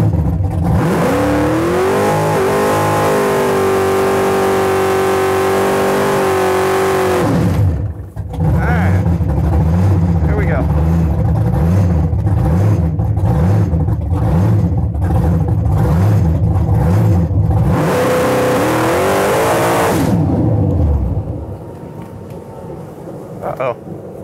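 A 1967 Pontiac Firebird drag racing at a track roars loudly with a rising engine, then cuts off abruptly. It revs rough and pulsing for a long stretch, surges again and drops away near the end.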